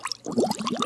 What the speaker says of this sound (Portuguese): eu tenho aqui também um áudio de borbulhas d'água